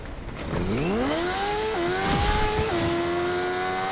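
A Fortnite motorcycle engine revs up steeply and holds a high whine, shifting pitch a couple of times, loud and close with game background noise.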